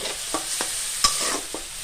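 Soaked sago and boiled mung dal are fried and stirred in a pan for sabu khichuri, giving a soft sizzle under several quick, distinct scraping strokes of a spoon, close and without talk.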